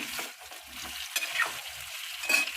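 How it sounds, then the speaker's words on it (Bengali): Parboiled potatoes frying in hot oil for egg kachuri, a steady close sizzle with occasional scraping stirs of a spatula, no voices over it. "তেলে আমি আলুগুলো দিয়ে দিচ্ছি। আলুগুলোকে একটু ভেজে নেব।"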